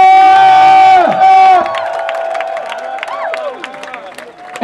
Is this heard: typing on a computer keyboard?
no